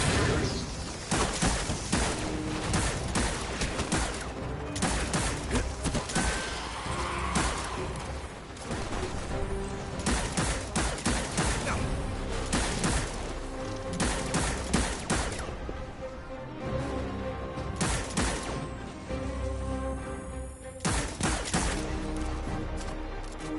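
Sustained turret gunfire in a video game, rapid overlapping volleys and heavy impacts pounding almost without pause, loud and close, with no voices.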